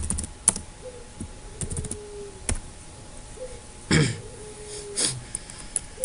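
Quick, close clicks and clacks of a computer keyboard as C++ code is typed, arriving in short irregular bursts. A throat clear and a cough break in, with faint background hum.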